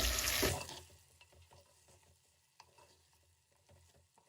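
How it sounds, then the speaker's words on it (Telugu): Cut okra being mixed with a tablespoon of rock salt in a pot: a loud rushing burst at the start, then quiet, close scrapes and soft knocks repeating irregularly. "ఒకసారి అంతా బాగా కలుపుకోండి"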